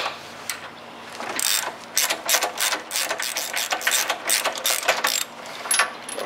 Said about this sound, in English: we're going to be using a standard 13/16 socket wrench to remove the plug